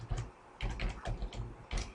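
Steady typing on a computer keyboard, close and clear keystrokes in several quick runs separated by short pauses, with no talking.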